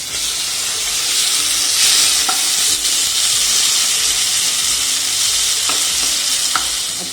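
Marinated mussels frying with curry leaves in a pan, giving a loud, steady hiss and sizzle that fills the whole stretch, with a few faint clicks of a utensil, close up and without talking.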